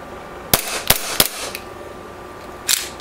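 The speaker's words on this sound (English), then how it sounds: "Now, the gun has an extremely high rate of fire because it has a very small and light slide." A KWA Glock 26c airsoft pistol fires on semi-automatic: four sharp, close snapping shots, three in quick succession and one after a pause, with no talking.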